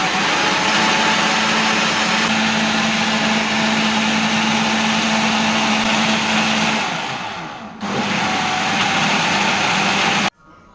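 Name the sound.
mixer grinder blending mango pulp with sugar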